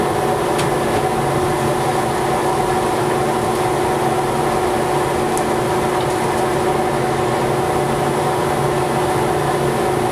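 A homemade dust collector with a Thien baffle runs in a steady, loud, unbroken whir and rumble, close by and unchanging throughout, with no voices.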